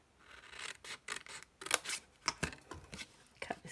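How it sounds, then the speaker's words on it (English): Scissors snip through paper or card for a handmade hand sanitiser gift box, giving a quick irregular run of close, crisp cuts with short pauses between them and no talking. "I'm going to cut along here"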